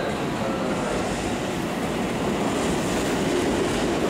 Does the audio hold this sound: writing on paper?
no